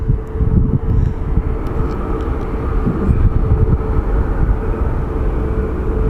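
Frontier Airlines jet in Puffin livery at Phoenix Sky Harbor International Airport, a loud, continuous low engine roar heard from close by without a break.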